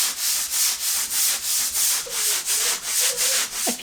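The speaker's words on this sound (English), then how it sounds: "It is the next day, the mud has dried, and it is ready to be sanded, so Zach is sanding." Rhythmic back-and-forth sanding strokes scraping dried drywall mud on a wall, steady and close, about eight strokes with a faint squeak near the end.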